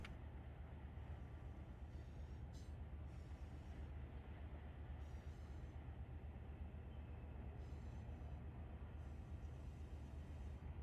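A steady, rumbling train passage in Run 8 Train Simulator, a continuous low roar of railcars and wheels rolling by at a constant level, with light hissy flutter above, no voices.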